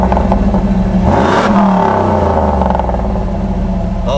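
A classic V8 engine on a muscle car revs hard and loud at close range, its deep roar climbing in pitch and then holding at a steady, rumbling idle-to-high throttle, with no voices over it.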